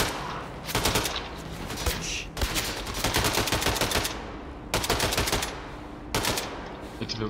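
Bursts of automatic rifle fire from an AK-47-style weapon in the shooter game Wolfenstein II: The New Colossus, several loud rapid volleys separated by short pauses.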